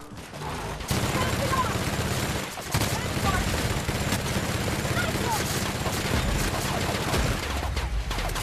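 Sustained gunfire from The Outer Worlds video game, dense overlapping automatic bursts nearly filling the clip after a brief pause, with a short break midway and a player's voice mixed in.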